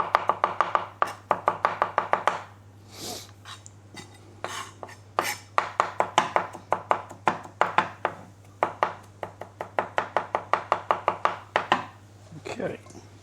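Seasoning ingredients for jerk chicken are finely chopped with a knife on a board, a fast run of rapid, crisp, evenly spaced knocks that pauses briefly and then resumes, sharp and close.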